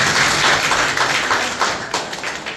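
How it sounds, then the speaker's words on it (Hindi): An audience at a government school science exhibition claps for a student project, with dense, close applause that fades slightly toward the end. "जोरदार तालियां इनके लिए।"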